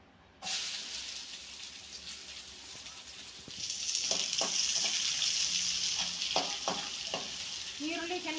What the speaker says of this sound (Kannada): ಸ್ವಲ್ಪ ಹಸಿ ವಾಸನೆ ಹೋಗುವವರೆಗೆ ಹುರ್ಕೋಬೇಕು